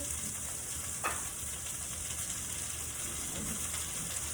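A steak is pan-seared for a medium-rare finish, giving off a steady close sizzle and hiss of frying with a brief scrape partway through and no talking.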